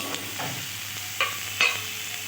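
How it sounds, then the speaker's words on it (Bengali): Papaya pieces frying in hot oil, a close continuous sizzle broken by a few sharp stirring clicks and scrapes, with no talking. "এবার আমি ওই তেলে পেঁপেগুলো দিয়ে দিচ্ছি।"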